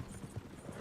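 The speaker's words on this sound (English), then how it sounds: "Horses won't go this fast for long." Horses gallop in the video game Red Dead Redemption 2, with a quick rhythmic clip-clop of hooves under a steady wash of ambient noise.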